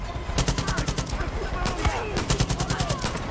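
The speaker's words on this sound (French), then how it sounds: "Ah, il me tire dessus en l'air et tout." Gunfire in the game Far Cry New Dawn, rapid bursts of automatic shots crackling loudly and densely throughout, with brief gaps between volleys and no voices.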